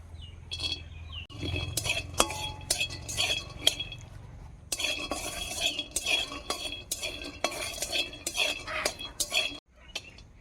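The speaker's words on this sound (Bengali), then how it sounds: "বাদাম ভেজে নেব বাদাম ভেজে গুঁড়ো করে নেব এই মোচার চপে দেওয়ার জন্য" Peanuts being dry-fried in a pan for a banana-flower chop, with repeated close spatula scrapes and rattling clinks against metal in irregular bursts, a brief pause partway through.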